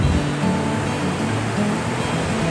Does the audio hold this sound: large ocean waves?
yes